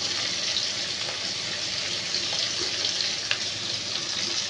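Onion sizzling steadily in hot oil seasoned with black cumin and salt, a dense continuous frying hiss with faint crackles, close and alone, while cooking a spicy boal fish curry.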